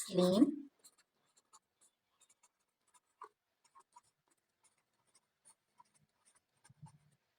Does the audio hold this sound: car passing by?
no